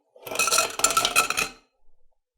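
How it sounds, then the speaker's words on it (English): Ice cubes tumbling into a cocktail glass or mixing vessel with fruit muddled for a sweeter drink, a close burst of clinking and rattling for about a second and a half, then a few faint clinks, no talk. "So adding some ice."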